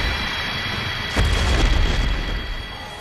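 A combustion pyromancy spell in Dark Souls going off with a single close, low boom that rumbles and fades over a couple of seconds after a quiet start.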